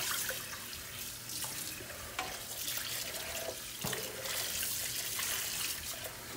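Tap water runs steadily into a sink as pancake batter is rinsed out of a mixing bowl, a continuous splashing rush with small knocks from the bowl, fairly faint and with no talking.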